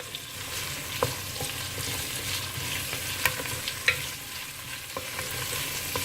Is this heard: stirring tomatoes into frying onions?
yes